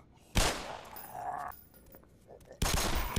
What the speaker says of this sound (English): The shotgun is very satisfying, bullseye.